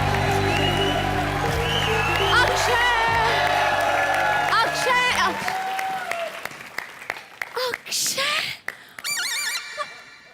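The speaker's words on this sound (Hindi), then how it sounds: "जोरदार तालियां हो जाए शकील जी," A comedy-show studio audience claps and cheers for two women, Pooja and Shruti, with loud sustained applause under a voice and music, thinning into scattered claps and whoops near the end.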